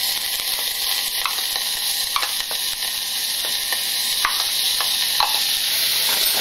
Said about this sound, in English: So in go the onions.